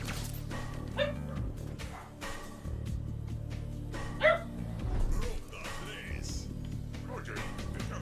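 House dogs bark and yip in the background during a Halo Infinite livestream, scattered short barks mixed with game sounds and steady low hum, one louder bark midway.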